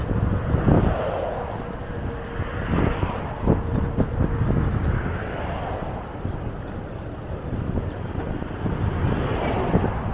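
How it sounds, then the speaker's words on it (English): Wind blowing along a city street in Philadelphia, a steady broadband rush with gusting surges and buffeting bursts on the microphone, with traffic rumbling beneath it. "Oh, the wind."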